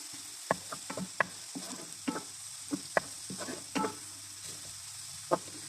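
Onions fry in pure butter in a pan with cauliflower rice nearby, a soft continuous sizzle broken by repeated sharp scrapes and clacks of stirring at an uneven rhythm, close by and with no talking.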